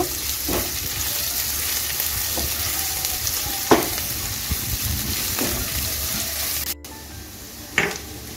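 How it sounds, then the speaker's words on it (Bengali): Chopped onion fries in a pan over low-medium gas, giving a steady, close sizzle broken by occasional scrapes and clinks of stirring, with a brief pause near the end. "এখন আমি গ্যাসটা লো টু মিডিয়ামে রেখে পেঁয়াজটাকে 2 মিনিটের মতো ভেজে নেব"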